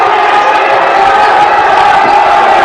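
Loud, steady roar from a crowded student section at a high school boys basketball game, Minneapolis, Kansas versus Russell, as the victorious team comes onto the court; dense cheering and shouting fill the whole moment without a break.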